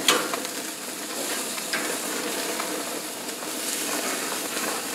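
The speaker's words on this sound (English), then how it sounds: "that's the burner I'm using it on right now, where all the steaks are" Beef or pork steaks frying on a stove burner give a steady, dense sizzle with crackling pops, close and continuous throughout, with no talk.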